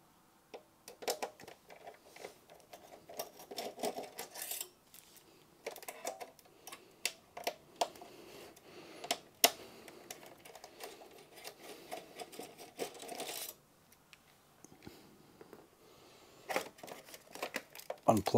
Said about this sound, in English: There's also another two screws that hold the DVD drive in, so we'll remove them.